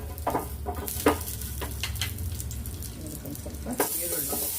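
Garlic and a little ginger drop into a hot pan for a Tarakari Saagu masala, giving a steady close sizzle with scattered clinks and scraping bursts, and a louder spitting flare near the end.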